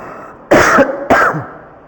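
A man teaching a maths class coughs twice and clears his throat in two short, close, loud bursts about half a second apart, with no speech over them.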